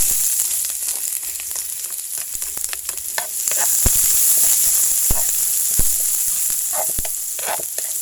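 Garlic and onion sautéing in a pan for cheesy egg lumpia, a continuous close sizzle broken by repeated sharp scrapes and taps of a utensil stirring.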